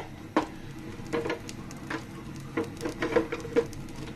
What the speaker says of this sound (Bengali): এখানে আমি পেঁয়াজ কুচি রসুন কুচি একসাথে দিয়ে দিলাম